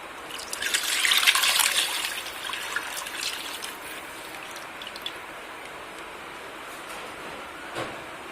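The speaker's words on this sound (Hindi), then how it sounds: "डालते हैं दूध।" Milk poured into a kadai, a bright close trickling gush that swells in the first couple of seconds then thins to faint dribbles and small knocks.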